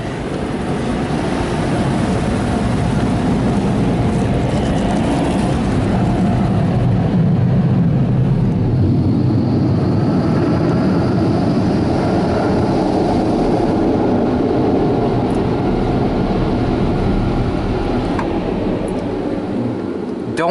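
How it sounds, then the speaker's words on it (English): Dryer blowers of a PDQ ProTouch tandem car wash at a Valero gas station roar in a loud, continuous rushing blast of air that swells slightly and holds steady throughout. "Okay, here comes the dryer."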